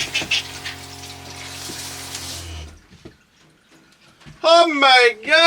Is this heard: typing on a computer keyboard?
no